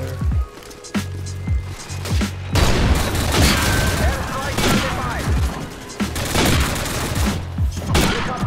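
Rapid bursts of gunfire and booming shots in the video game Call of Duty 4 come in clusters, loud and dense, with brief pauses between volleys and someone talking over parts of it.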